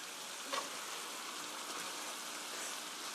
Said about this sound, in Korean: 볶아주세요. 스톨 프라이 10미니 10분간 볶아주세요.